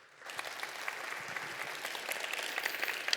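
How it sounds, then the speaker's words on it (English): An audience at a Python programming talk breaks into applause to welcome the speaker, a dense, even patter of many hands that starts abruptly and holds steady for about three seconds. "Please give him a background of applause"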